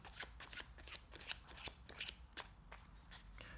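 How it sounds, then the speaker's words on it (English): A deck of playing cards gets an overhand shuffle: a quick, regular run of crisp riffling slaps and flutters, close and fairly quiet, repeating about three times a second without talking. "You can do an overhand shuffle first to show that the cards are mixed."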